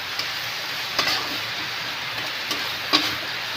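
Chili powder, turmeric and salt get stirred in a pot with a faint hiss underneath, a few soft scraping strokes and light clinks of the spoon against the metal.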